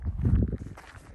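Footsteps crunch outdoors along a rural highway roadside in Kulin, Western Australia, several quick close steps with wind rumble underneath, fading slightly toward the end.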